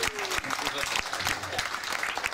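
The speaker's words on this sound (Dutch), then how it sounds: "Mag ik een applaus" Applause at a wedding celebration for the band that played: a steady, dense wash of clapping from the guests throughout, with voices talking over it.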